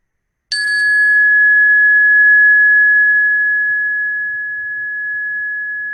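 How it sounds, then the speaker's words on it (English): A single meditation bell is struck once and its clear, pure tone rings out loud, then slowly fades over several seconds in near silence during a guided practice. "gently inviting attention to rest on the sound sensation of the bell"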